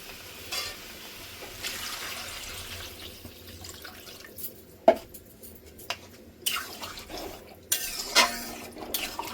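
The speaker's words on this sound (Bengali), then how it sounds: "এবার জল দিয়ে দেবো।" Water is poured into a hot cooking pan holding a prawn, brinjal and potato curry, giving a soft splashing hiss amid occasional clinks of a spoon against the pan.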